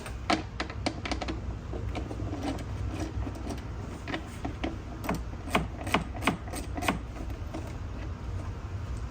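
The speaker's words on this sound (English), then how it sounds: "to get those off, it's gonna be a 10 mil socket" A 10 mm socket on a ratchet loosening bolts from the interior trim of a C8 Audi RS6: rapid, close, clicking ratchet strokes in uneven bursts against a low background hum.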